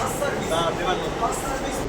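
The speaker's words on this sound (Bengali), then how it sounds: "ফাইনালি আমাদের মেট্রো কিন্তু পৌঁছে গেছে জয় হিন্দ বা এয়ারপোর্ট মেট্রো স্টেশনে" Kolkata metro train running through an underground tunnel toward Jai Hind (Airport) station, a steady loud rumble and rush of wheels and air filling the whole clip, with a voice talking over it.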